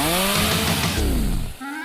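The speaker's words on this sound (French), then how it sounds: "J'utilise une tronçonneuse." A chainsaw runs loud and close in a kitchen setting, its engine revving with a falling then rising whine over just under two seconds, alone with no talk.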